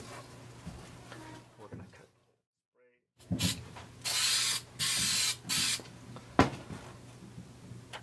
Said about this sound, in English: So I'm going to use a little spray adhesive.